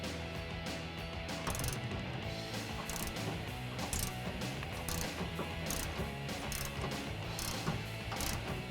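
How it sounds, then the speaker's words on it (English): A hand ratchet with an 18mm deep socket turns a bolt on the exhaust of a 2011-2014 Ford F150 3.5L EcoBoost, giving a continuous close clicking of the pawl with repeated sharper ticks. "we're gonna use an 18mm socket for the bolt head. So we're gonna use a deep socket"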